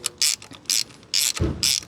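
A wrench ratchets in short, sharp clicking bursts while a fitting is threaded and tightened into a Nissan Micra K11 engine during a compression test, with four or five quick close runs and pauses between them.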